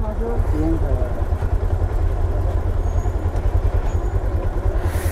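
Motorcycle engine idling with a steady low throb, close and continuous, at the Sonprayag parking area, while someone talks over it.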